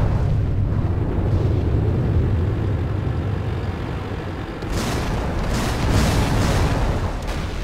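Artillery firing in the Order of War video game, a sustained low rumbling roar of heavy guns with a sharper series of booming blasts in the second half, loud and without talk.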